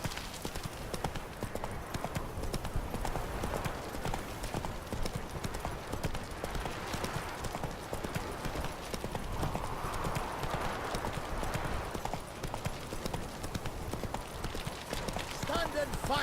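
A horse gallops in The Witcher 3 video game, a continuous rapid clip-clop of hooves at steady pace, with voices heard over it.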